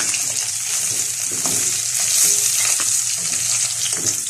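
Continuous crackling sizzle of bay leaves tempering in hot oil left from frying fish, close and steady, with faint stirring noises underneath.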